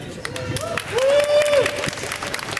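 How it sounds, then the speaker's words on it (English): An audience at the Great Planes Signature Event applauds under a speaker's voice, with a long whistle rising over the crowd in the middle of the clapping. "Yeah, round of applause for Matt."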